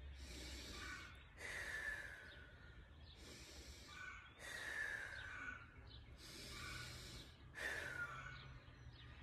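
Children breathing deeply during a karate class balance pose, three slow rounds of loud, airy inhales and exhales, close and clear with no talking.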